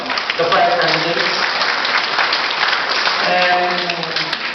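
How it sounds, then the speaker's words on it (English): At a Filipino-Irish association coronation night, the crowd applauds the five pageant candidates, with dense continuous clapping and cheering throughout and a voice speaking over the clapping at the start and again near the end. "Let us give them a big round of applause, the 5 candidates"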